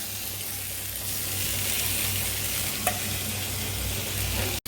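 Tomato, ginger and garlic sizzling and frying in a pan for brinjal masala, a steady close crackle with stirring and one brief clink near the end, no talking.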